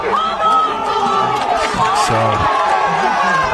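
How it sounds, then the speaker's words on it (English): Crowd noise swells at a Gaelic football intermediate championship final between St Brides and Kilkerley, with a broad roar and cheering around the ground under a commentator's steady talk. "You heard the crowds are getting more boisterous, getting more noisy as the game goes on."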